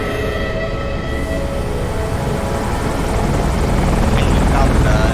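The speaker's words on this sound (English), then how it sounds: "that helicopter looks way too tiny to carry this man" A helicopter in the video game Metal Gear Rising whirs with a steady, loud rotor drone, growing slightly louder toward the end, with game sounds mixed in.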